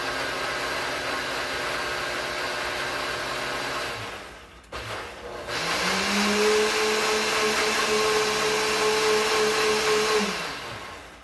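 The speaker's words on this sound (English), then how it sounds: "And we're just gonna blend that up." A blender whirs loudly through chili relleno casserole ingredients, running steadily, cutting out briefly, then restarting with a rising motor whine that holds and then winds down.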